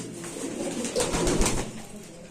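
Pigeons coo at a busy pigeon market where fancy and Lahori birds are sold, a short soft burbling call rising over a low market murmur.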